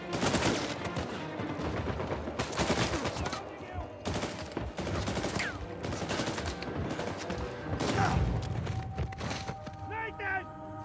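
Sniper and other gunfire in Uncharted 4: A Thief's End, with repeated loud shots and bursts of fire cracking over about ten seconds amid splintering impacts, with voices speaking in between.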